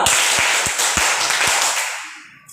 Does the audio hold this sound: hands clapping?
yes